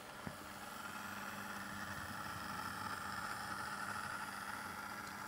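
A model train locomotive with a design fault runs up close, its motor giving a steady, rough droning hum with a gritty mechanical buzz that holds at an even level throughout.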